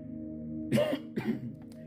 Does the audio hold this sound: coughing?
yes